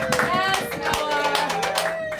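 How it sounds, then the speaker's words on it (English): Hand clapping from a small group during a music session, a loose run of claps with voices talking and singing over it. "Let's give another hand clap for Noah."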